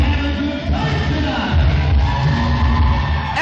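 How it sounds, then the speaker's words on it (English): A wrestling arena crowd at an RWA Aggression event cheers, a steady roar of many voices with scattered shouts and whoops, loud and continuous throughout. "Everybody cheering here."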